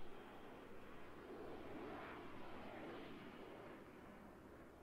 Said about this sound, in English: Oh shit, hear that jet.